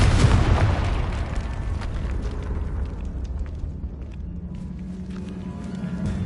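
A Confringo blasting spell explodes in Hogwarts Legacy, a loud burst at the start that decays into a rumbling, crackling tail of debris and echo inside a catacomb.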